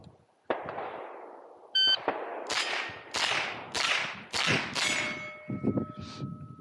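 Rimfire rifle shots on a Steel Challenge course, five sharp reports in quick succession, each followed by a ringing metallic clang from the steel plates, close and loud with no talk.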